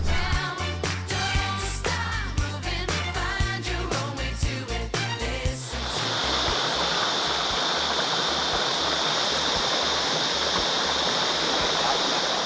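The Styx River flowing beside an off-road stop, a steady rushing wash of water with no breaks, following a stretch of louder clattering and knocking sounds at the start.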